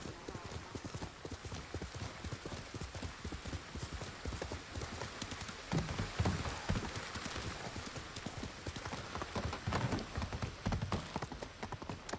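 Rapid hoofbeats of a horse in the video game Ghost of Tsushima pound in a steady galloping rhythm, close and clear, with occasional heavier thuds and faint voices in the background.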